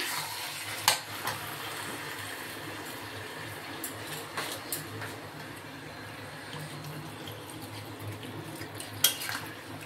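Water poured into a pan of frying bhetki fish-bone curry, which then simmers with a steady, even sizzle and bubbling, a few sharp utensil clinks on the pan, close up with no voices.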